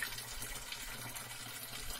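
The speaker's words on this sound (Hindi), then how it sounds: "ये पानी आ रहा है, इतना अच्छा पानी है, बिल्कुल साफ" Clean, cold mountain spring water runs steadily outdoors, a soft, even wash of flowing water with no voices.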